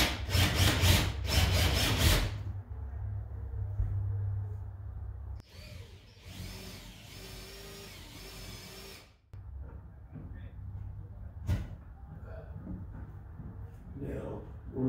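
Power tool work on wood while building a large garage shelf, with a harsh grinding drill or saw burst early, then rasping and scraping, later shorter whirs, fairly close and loud, with people talking now and then.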